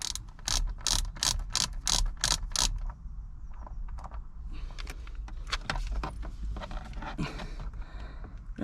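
Screws being driven back into an interior trim panel on a Ford Transit Mk7 during an ignition switch repair, heard as a quick burst of sharp ratcheting clicks followed by looser mechanical fiddling and rattles, close and fairly loud.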